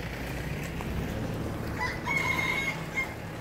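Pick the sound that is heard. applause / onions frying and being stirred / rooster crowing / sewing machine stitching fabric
rooster crowing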